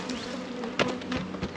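Honeybees hum at an opened hive during a first inspection after winter, a steady close buzz with brief louder swells as individual bees pass near.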